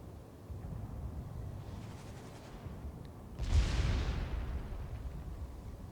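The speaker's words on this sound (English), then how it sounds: "Shells coming in." Incoming naval shells burst in the warship game World of Warships, a faint whooshing approach followed by a louder muffled explosion and a rumbling tail, heard at a distance.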